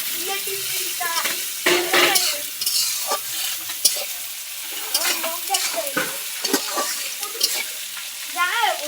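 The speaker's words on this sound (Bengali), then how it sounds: "এবার টমেটোটা দিয়ে দেবো, টমেটোটা পেঁয়াজের সঙ্গে ভাজা হোক" Tomato frying with onion, garlic and ginger in a pan, with steady sizzling and repeated spatula scrapes and stirs throughout, and a voice occasionally heard under the cooking.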